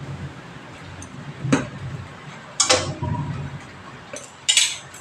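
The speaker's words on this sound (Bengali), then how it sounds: "এই দেখো কড়াই বসিয়ে দিচ্ছি, কড়াই গরম হয়ে গেছে।" A heated kadai is set down on a stove, giving a few separate close metallic clanks and knocks against a quiet room, with no talking.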